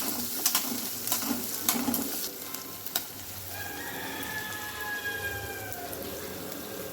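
Ten to fifteen small shallots sauté in a pan, a soft, steady sizzle with a few spoon clicks and scrapes early on, close and fairly quiet, no voices.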